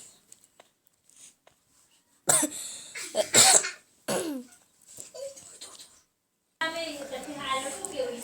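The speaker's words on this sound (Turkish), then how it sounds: "Arkadaşlar öksürmemden dolayı özür dilerim." Several harsh, close coughs come in quick bursts after a quiet start, followed by a short pause and then some rustling.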